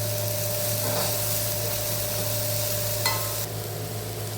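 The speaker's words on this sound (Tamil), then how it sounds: "அதோடையும் சேர்த்து நல்லா வதக்கணும் வெங்காயம் நல்லா வதங்கட்டும்" Onions sautéing in a pan while making egg podimas, a steady, continuous sizzle close by with a faint stirring scrape near the end and no voices.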